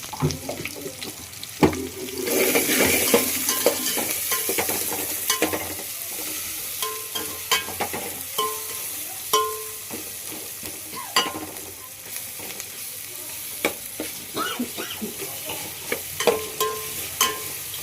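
Chicken curry masala with ginger paste and coriander powder sizzles as it fries in a pan. A spoon scrapes and stirs it in a close, steady run of clinks, with no talking.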